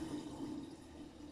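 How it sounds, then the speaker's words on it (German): Tap water running steadily into a washbasin and down through a newly fitted siphon, a constant close rushing and gurgling stream. "So, jetzt lasse ich das Wasser mal laufen."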